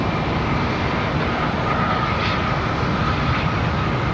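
A Contour Airlines jet rolls for takeoff on runway 36 Center at Charlotte Douglas International, producing a steady, loud, broadband engine roar that stays constant throughout without talk.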